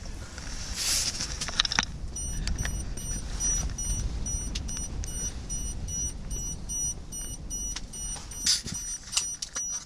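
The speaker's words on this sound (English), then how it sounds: "And all the beeping is the fish going by." A fish finder on the ice during a perch ice-fishing outing gives off thin, high, repeated electronic beeps in short bursts, fairly faint over a steady background hiss.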